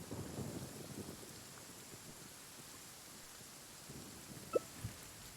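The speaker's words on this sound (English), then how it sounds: "on account of all this rain we've been having" Steady rain falls with a low rumble of thunder in the fantasy video game Genshin Impact, a soft continuous wash with two brief sharp ticks near the end.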